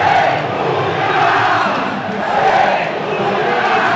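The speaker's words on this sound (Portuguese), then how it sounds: "A torcida do Palmeiras provocou a torcida do Taubaté." Palmeiras supporters at a Copa São Paulo junior match against Esporte Clube Taubaté chant and taunt the rival fans, a dense, loud stadium crowd roar that swells and dips rhythmically throughout.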